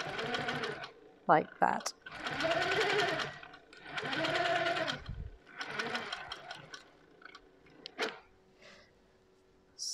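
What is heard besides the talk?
Pro-Stitcher quilting sewing machine stitching placemats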